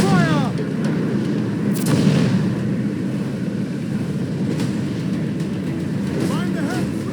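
Ship cannons firing in Assassin's Creed 4 Black Flag during a naval battle with a slaver ship, heavy booming blasts over continuous rumbling sea and battle noise, with game voices shouting in between.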